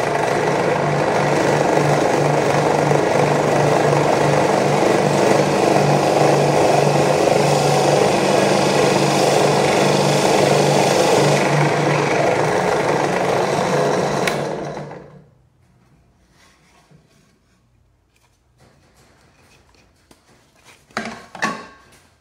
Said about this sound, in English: now it's off to the drill press. Okay, now I have my spade bit installed